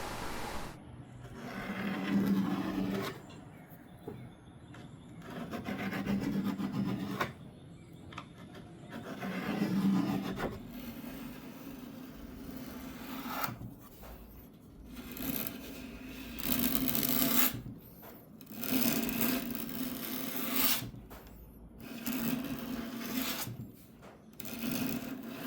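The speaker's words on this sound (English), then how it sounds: "So I'll just trim it, and makes life easier when I have to shape it." Hardened epoxy filler being trimmed on a 1940s/1950s RCA Victor wooden radio cabinet, quiet repeated scraping and rasping strokes arriving in steady bursts a few seconds apart, close and faint.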